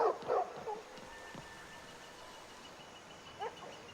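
Dogs bark in Skyrim VR, a couple of quick close barks at the start and one more a few seconds later, with quiet game ambience in between.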